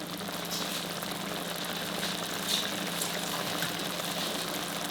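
Tamarind juice poured into bitter gourd cooking in a pan over medium-high flame, giving a steady, rain-like hiss and bubbling that runs evenly throughout without talk.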